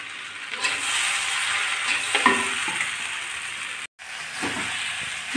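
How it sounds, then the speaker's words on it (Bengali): Egg and vegetables are stir-fried in a pan, giving a continuous close hiss of sizzling with occasional spatula scrapes, one brief dropout partway through, and no voices. "আমি আরও কিছুক্ষণ ভাজা ভাজা করে নেব"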